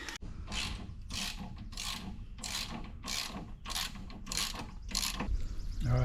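Torque wrench ratcheting a bolt on a Jeep TJ sway bar disconnect: about nine evenly spaced, crisp clicking ratchet strokes repeat close up in a steady rhythm, ending with a slightly louder final click.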